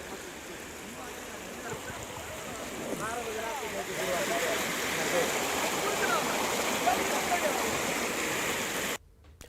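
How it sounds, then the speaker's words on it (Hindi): Rushing floodwater from the swollen Noon river in Samastipur pours steadily as a broad, dense wash that swells louder midway, with what may be faint voices in the background. "समस्तीपुर में नून नदी का जलस्तर लगातार बढ़ रहा है।"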